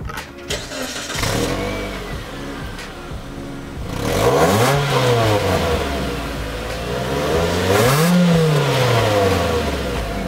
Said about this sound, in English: The exhaust on this is so quiet,